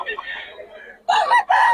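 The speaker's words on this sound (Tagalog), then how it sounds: "Yan ang gaganda ng mga manok ng Boss Agag." Roosters crowing at a busy outdoor market in Bocaue, a few loud bursts of crowing and clucking close by, with a brief lull in between.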